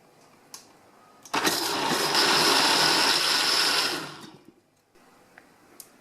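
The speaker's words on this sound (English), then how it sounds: "Transfer the cooked vegetables into a blender and blend that until you have a really smooth consistency" A blender starts abruptly and runs loudly for about three seconds, blending cooked vegetables, then winds down and stops, leaving quiet.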